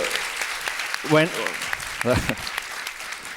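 A panel audience claps for the speakers at an event on algorithmic governance and the Swedish model, the applause steady and moderately loud beneath short bursts of a speaking voice.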